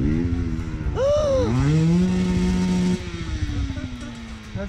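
Motorcycle engines rev and rise in pitch on a steep mountain hiking trail on the Lungchutse hike, passing close by, loud and sustained with hikers talking over it.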